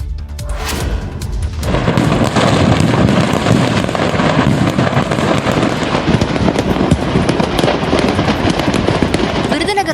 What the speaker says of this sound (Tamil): விருதுநகர் மாவட்டம் சிவகாசியில் பட்டாசு குடோனில் ஏற்பட்ட பயங்கர வெடிவிபத்தால் புகை மண்டலம் ஏற்பட்ட காட்சிகள்தான் இவை